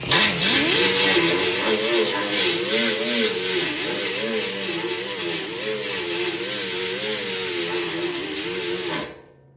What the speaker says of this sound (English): I'm gonna take a grinder to these and see how they look.